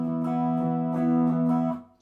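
Electric guitar playing a standard power chord shape from a Sonic and the Secret Rings piece, a sustained clean tone with a few rhythmic restrikes, close, fading out at the end.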